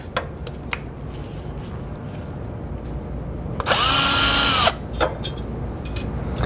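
A power drill drives a screw into a wooden miter gauge extension in one loud, high-pitched whir of about a second, set among quieter shop handling noises and clicks.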